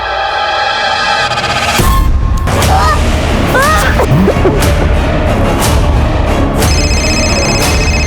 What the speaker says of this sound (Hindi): अरे मेरा फोन बज रहा है